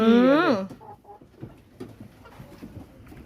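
Laying hens arriving at a home farm give a loud, close squawk at first, then scattered soft clucks and rustling follow, while someone talks over them.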